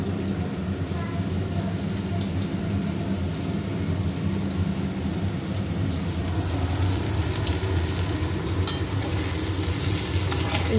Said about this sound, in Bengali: দেখো সব সুন্দর করে ভাজা হয়ে যাচ্ছে